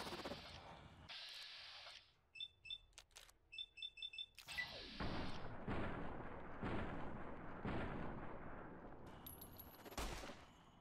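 In the game Fallout New Vegas, gunfire comes in bursts: a run of rapid cracking shots, then heavy booming blasts and rumbling explosions that fill the second half, loud and close.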